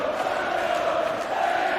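A large darts crowd at the World Matchplay, Van Gerwen versus Aspinall, roars and chants in a steady, loud, continuous wash of voices filling the arena.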